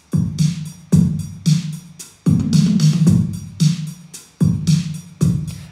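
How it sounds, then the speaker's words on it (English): A very simple programmed beat built in Logic Pro X with a drummer kit and hi-hats, steady punchy kick-and-snare hits with ticking cymbals repeating in a loop, loud and close with no voices. "very simple beat, and you kind of want it to sound simple like that"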